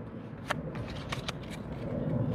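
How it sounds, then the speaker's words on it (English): A deck of playing cards being shuffled up close, with a few sharp riffling flicks over a low, steady background rumble. "Give them a little shuffle."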